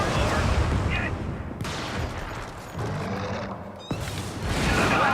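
Dense, loud gunfire and explosive booms from weapons in a bug-fighting video game, near and continuous with bursts and blasts overlapping throughout.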